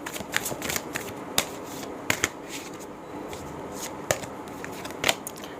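Tarot cards being shuffled and drawn for a reading, with soft riffling and papery sliding broken by crisp, sharp snaps of cards being laid down, close and alone.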